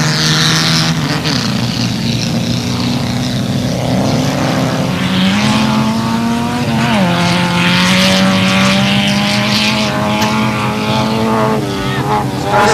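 Hot rod race cars at an All-Ireland qualifier in Ballyduff, County Waterford, including a 1300 Volkswagen with an Opel engine, drone loudly and continuously with rising and falling revs, while an announcer talks over the engines.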